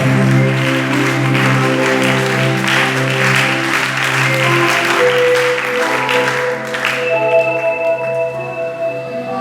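Church congregation clapping to acclaim the Lord, steady loud applause blended with sustained organ-like chords and singing voices, tapering slightly near the end.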